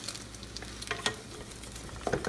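Eggs and onions frying in a home kitchen pan, a steady soft sizzle with faint crackles and a few louder pops and spatters near the end, no voices over it.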